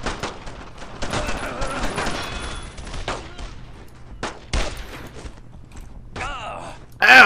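Repeated bursts of gunfire crackle through a World War II battle in Brothers in Arms: Road to Hill 30, with sharp shots scattered across the scene, interspersed with voices and shouts.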